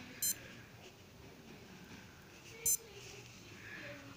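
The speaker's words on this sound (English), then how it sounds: "That's the alarm." A cheap digital heart rate wristwatch gives two short, high electronic beeps a couple of seconds apart, clear and close against a quiet background hiss.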